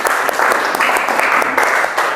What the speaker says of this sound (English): Give applause to group 1.